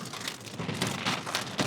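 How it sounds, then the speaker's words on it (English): Dense, steady patter of large hail pelting a surface on Mont Ventoux, a continuous rattling hiss with scattered sharper hits, close and moderately loud with no voices. "Really big hail."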